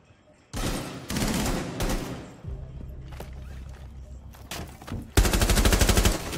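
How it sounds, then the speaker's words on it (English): Rainbow Six Siege gunfire: a few loud single shots, then a sustained rapid automatic burst near the end, over low rumbling game ambience. "Got your ass! Headshot!"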